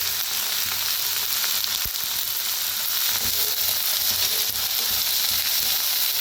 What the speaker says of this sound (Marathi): त्यातच टाकूया टमाटर बी